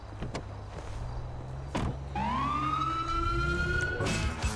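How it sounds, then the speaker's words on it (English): Police car siren in GTA V with the LSPDFR mod, rising into a sustained wailing tone after a couple of short clicks and thumps, loud and steady over a low engine rumble. "Let's see a siren."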